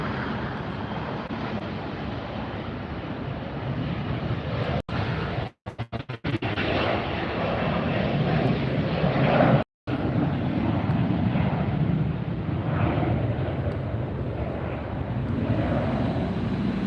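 A departing airliner at Los Angeles International Airport roars with heavy jet engine noise that stays loud and steady, broken by brief dropouts, with wind buffeting the microphone.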